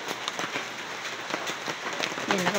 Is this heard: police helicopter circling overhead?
no